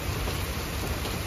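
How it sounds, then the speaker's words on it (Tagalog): Heavy rain pours down as a dense, steady roar of hiss with no breaks, loud and close throughout the short moment. "Ang lakas ng ulan."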